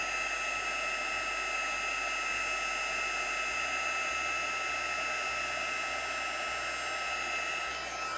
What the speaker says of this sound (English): bring our heat tool around to the front, and I should see it start to move